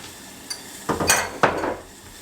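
Hot sauce poured into a small saucepan on a stovetop for a buffalo wing sauce, heard as a few close metallic clinks and scrapes of pan and utensil with brief splashy pours between them.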